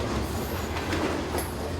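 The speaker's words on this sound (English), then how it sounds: "this cement train was probably the only regular working operated by the Maryland Midland" A Maryland Midland Railway cement train rolls past close by, a steady, loud rumble of wheels on rail with faint clickety-clack and a brief high squeal near the end.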